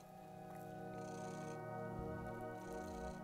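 A house cat purring loudly and steadily right beside the listener, a continuous close rumbling drone with faint background sound from an Assassin's Creed Syndicate game.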